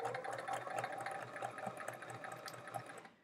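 A sewing machine stitches quilt pieces, half-square triangles for a chevron quilt, in a steady fast whirring hum that runs continuously, fairly faint, then cuts off at the end.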